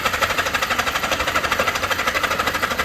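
A Zephyr 750 motorcycle engine cranks on the starter after the ignition and fuel are switched on and the choke is pulled, giving a steady, rapid, even chugging rhythm throughout with no talking.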